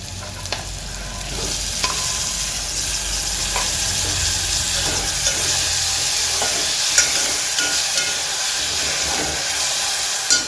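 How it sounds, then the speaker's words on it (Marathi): Steady loud sizzling and hissing of frying ridge gourd with curry leaves as tomatoes go in, with scraping stirring strokes throughout, close up and without speech. "आता बघा मी टोमॅटो टाकून घेते"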